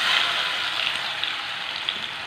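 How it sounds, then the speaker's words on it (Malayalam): Ripe banana pieces frying in hot ghee, a loud, close, continuous hiss of sizzling fat with faint pops, heard on its own. "നമ്മളിവിടെ കട്ട് ചെയ്ത് വെച്ചിരിക്കുന്ന പഴം നമ്മൾ ഈ നെയ്യിലേക്ക് ചേർക്കാം."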